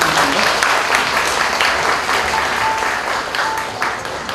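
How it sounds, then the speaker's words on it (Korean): Sustained applause from an audience at a university labor union general assembly and launch ceremony fills the room evenly, dense and steady before tapering slightly toward the end. "박수 부탁드립니다"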